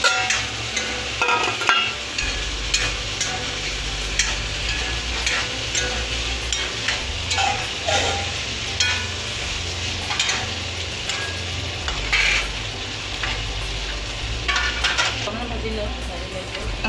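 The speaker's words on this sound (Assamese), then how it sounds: "অলপ দেৰি এনেকৈ মাংসখিনি ভাজি ল'ব লাগিব।" Steady loud frying sizzle from spiced chicken in a pan, with occasional stirring scrapes and clinks throughout, close up.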